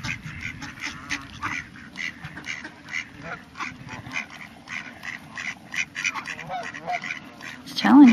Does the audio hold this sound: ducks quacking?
yes